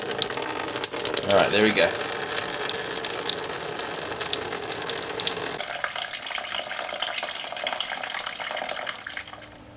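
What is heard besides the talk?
coolant draining from a 2008 Honda Civic Hybrid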